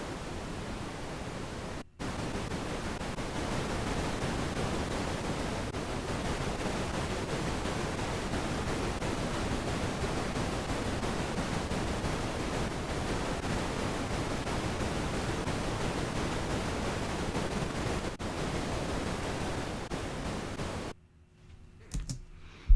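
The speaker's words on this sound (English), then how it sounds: "next we're going to listen to pink noise and see how that contrasts with white noise" Pink noise test signal playing as a steady, dense broadband hiss with a softer, less harsh top end, continuous for about twenty seconds before stopping.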